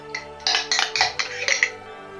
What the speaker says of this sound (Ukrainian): І додаю майонез. І все, друзі, і все вимішую ретельно.